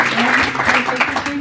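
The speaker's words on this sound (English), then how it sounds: "round of applause for all our panelists and for Tamara." A short burst of applause from a crowd for panelists at a tech event, clapping steady and fairly loud throughout.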